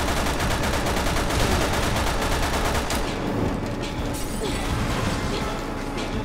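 Rapid, continuous gunfire shooting down Duavos in the video game Resident Evil 6, a dense, loud barrage of shots with mechanical clatter that thins slightly toward the end.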